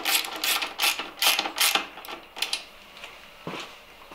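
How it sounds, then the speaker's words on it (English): Bolts on a Royal Enfield Interceptor 650 luggage rack being tightened with a hand ratchet: quick bursts of close, sharp clicking in an irregular rhythm, fading to a few sparse clicks toward the end. "So you go around just tightening them all up evenly before you give them all a final torque up when you're finished."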